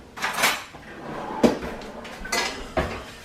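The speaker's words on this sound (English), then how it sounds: "Now, I'm just going to put a little bit of tomato on the bottom of the pan." A spoon clanks against a metal baking pan as tomato is spread over the bottom for eggplant rollatini, making a few sharp, close metallic knocks and scrapes spaced irregularly.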